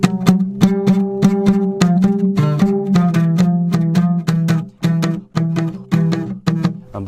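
A leona, the deep plucked bass of son jarocho, is struck in a driving percussive drum-like pattern, with dense rapid attacks and ringing low tones, loud and close with no voices.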